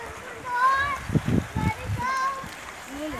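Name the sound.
flowing water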